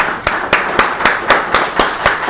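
Audience applause for a guest speaker at the close of a university seminar on mural and urban art: a few people clap in a slow, regular rhythm, each clap distinct and fairly close, with a faint room hum between.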